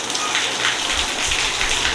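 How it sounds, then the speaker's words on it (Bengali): Heavy rain pours down outside a house after a sunny spell, a dense, steady hiss of drops hitting surfaces without a break, loud and even throughout. "খুব বৃষ্টি পড়ছে"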